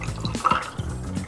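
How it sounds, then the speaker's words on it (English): A dry-shaken watermelon Bloody Mary is poured into a glass, giving close, uneven liquid splashes and drips, with no talking. "Pour our dry shake into the glass of your choice."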